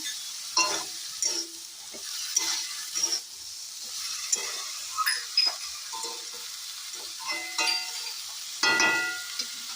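Green chilies frying in a pan for a home-cooked Bengali meal, a steady hiss of sizzling oil broken by repeated scraping stirs, close and fairly loud with no talking.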